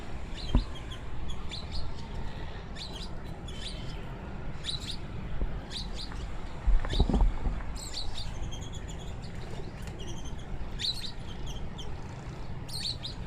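Pigeons being flown and trained in Karachi, with faint scattered bird chirps over an outdoor background and a brief flurry of rustling in the middle, no talk heard.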